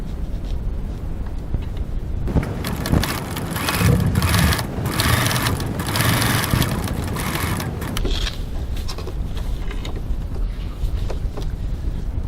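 A sewing machine top-stitches along both sides of the fabric seams on a crossbody bag. It whirs loudly in an uneven run that swells in the middle, then drops back to a softer, steadier hum.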